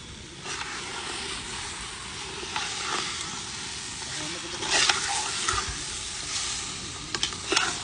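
Chicken with mixed yellow spices fries in a pot for kabsa, giving a steady, close sizzle and hiss with scattered scraping knocks of stirring throughout.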